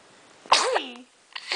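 A two-month-old baby boy sneezes once, a sharp near burst with a short breathy tail, followed by a soft intake of breath.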